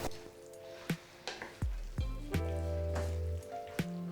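Vegetables with dry garlic and ground black pepper being stirred in a pan over medium heat, giving scattered soft scraping and clatter of a utensil against the pan with a low sizzle, close and fairly quiet with no talking.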